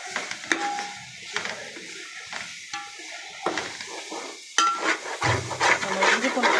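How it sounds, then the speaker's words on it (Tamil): Mint, coriander leaves and ginger-garlic paste are stirred in a biryani pot, the spoon scraping and clinking against the metal in repeated strokes over a sizzle that swells near the end, heard close with no talking. "நம்ம அப்படி விடாமல் நல்லா கிளறி எடுக்கணும்."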